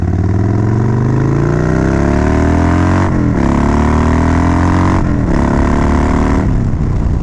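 A Harley-Davidson Dyna Wide Glide motorcycle engine running loud and close, its pitch climbing steadily through the revs with short dips between gear changes, no talking.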